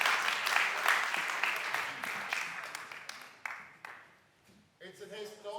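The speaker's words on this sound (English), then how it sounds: "I think we should keep on applauding them, right?" A conference audience marking a university network's 20th anniversary breaks into sustained applause, dense clapping that thins out and fades near the end as talk resumes.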